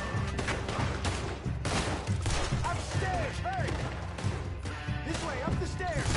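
Scattered gunshots and crashes erupt during an attack in the western game Red Dead Redemption 2, heard beneath excited talking and a busy game soundscape.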